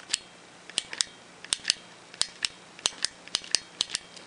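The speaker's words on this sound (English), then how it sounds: "you can hear it click. So it's engaging that switch every single time you push it in." Push-button switch on a Lifehammer Torch Light Synergy flashlight clicking about fifteen times in an uneven rhythm, each click sharp and close, alone with no talk over a quiet background.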